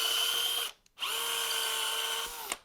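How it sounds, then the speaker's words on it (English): A power drill whirs steadily as an oversized bit drills out a 3D printed part to clear support material, with a brief pause before it spins up again and runs on, close and loud with no talk. "you may have to take a slightly oversized drill bit and very carefully"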